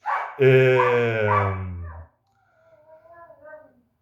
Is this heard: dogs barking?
yes